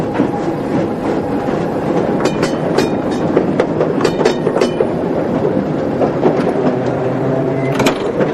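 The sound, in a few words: old train carriages rattling along the track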